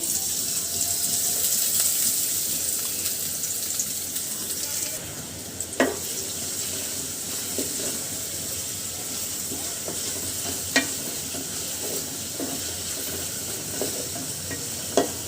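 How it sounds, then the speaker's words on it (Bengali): Oil in a hot pan for a tengra fish curry with ripe tomatoes: a gentle continuous sizzle with a few isolated clinks and scrapes of a utensil and no talking. "দিয়ে দিচ্ছি তেল,"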